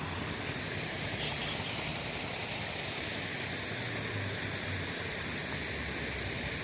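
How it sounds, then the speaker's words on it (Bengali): Water spills down like a small waterfall at a riverside spot in Raichak, giving a continuous, even rushing hiss with no pauses and no voices. "এই দেখো এখান থেকে ঝর্ণার মতো একটা জল পড়ছে।"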